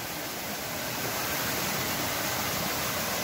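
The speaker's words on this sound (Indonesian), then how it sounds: "suara gemericik air yang menyatu dengan suasana alam" Babbling water runs steadily beside rice fields in an Indonesian village, a continuous close rushing and trickling wash with no voices over it.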